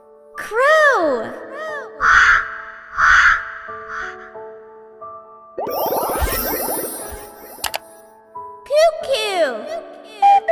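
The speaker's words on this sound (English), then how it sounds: "Crow!" A crow caws several times in short, harsh bursts, interspersed with a voice and bright chiming effects in a lively cartoon-style setting.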